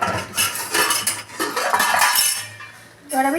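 A lid being set over a pan of small fish cooking with onion, garlic and eggplant, heard as clattering metal clinks and scrapes up close, followed by a final sharp clink near the end.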